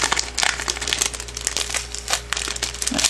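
Packaging of a mailed parcel of small gifts crinkling and rustling as it is pulled open, a close, busy run of crackly crumpling bursts.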